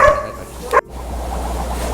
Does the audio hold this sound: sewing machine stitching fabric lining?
no